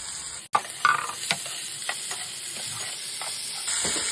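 Bell pepper pieces go into a hot pan for soybean chilli and sizzle steadily while being stirred. Sharp scraping clicks from the spatula stand out against the hiss, with no talking.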